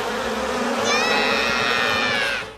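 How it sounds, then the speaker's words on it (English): A swarm of bees in a Simpsons cartoon gives off a dense, close, continuous buzzing, with a thin whining tone rising over it midway, heard alone for a couple of seconds. "Lisa's then attacked by a whole swarm of bees."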